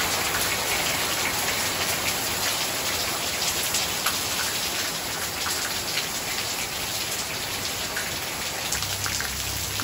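Heavy tropical rain pours steadily and loudly in a beach town in Las Terrenas, a dense, continuous hiss of drops hitting surfaces with no break throughout.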